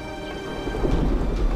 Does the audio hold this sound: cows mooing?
no